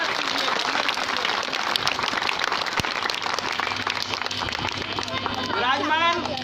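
Village crowd at a clothes distribution event applauding to welcome a former MLA, a steady dense wash of clapping and crowd noise throughout, with voices mixed in and a louder voice near the end.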